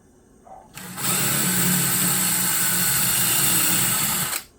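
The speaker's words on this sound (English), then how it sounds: "Let's put a drill bit on that." A power drill whirs at high speed for about three and a half seconds while installing IKEA Blankett handles on kitchen cabinets, starting abruptly and cutting off just as sharply.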